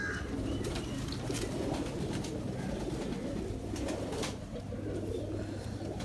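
Golden pigeons coo in a low, continuous murmur over steady background noise, with a few faint higher calls and clicks scattered through.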